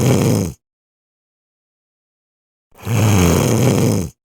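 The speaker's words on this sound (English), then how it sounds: "the ogre, being drowsy, shut his eyes, and soon snored very loudly" A storybook ogre snores very loudly: two long, rough, close snores separated by a few seconds of complete silence.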